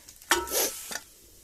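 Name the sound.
food cooking over a wood fire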